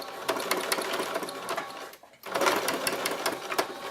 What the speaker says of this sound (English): sew along this folded edge